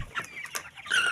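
Broiler chickens on a farm, kept for meat, give several quick clucks and squawks close by, ending in a louder, higher squawk.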